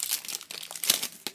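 A Pokemon card booster pack wrapper, likely from the Steam Siege set, crinkles and crackles in a short burst of dry plastic rustling as it is torn open, close up with no talking.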